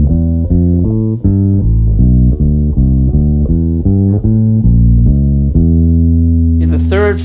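Walking bass line on a bass, steady plucked quarter notes with octave displacements leaping between low and high registers, loud and close, playing alone with no talk.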